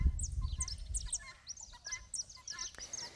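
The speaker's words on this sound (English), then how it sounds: "You can listen to the birds." Outdoors in nature, several birds chirp and tweet in quick repeated bursts, fairly faint and scattered across the moment with no talking.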